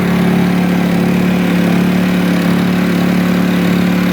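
With its enclosure opened, a Honda generator runs loud and steady, its mid-low engine hum and exhaust drone constant and close, with no one speaking.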